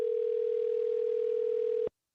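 A steady telephone tone on a call about to go to voicemail, one continuous clean pitch lasting nearly two seconds before cutting off abruptly into silence.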